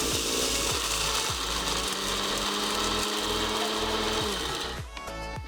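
A spice grinder or mixer runs continuously as it grinds toasted cinnamon, black pepper, dry chili and curry leaves into powder, loud and steady, then slows and stops near the end.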